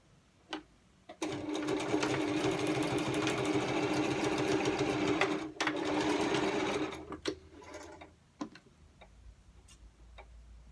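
A sewing machine stitching back and forth along the edges of a fabric ear pressure band, a loud close mechanical whir with rapid ticking that runs for several seconds, pauses briefly, then stops, followed by scattered small clicks.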